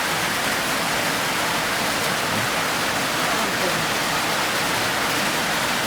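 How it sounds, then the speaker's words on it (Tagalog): Heavy rain falls in a steady, dense roar that holds evenly throughout, with no voices. "At malakas na po yung ulan"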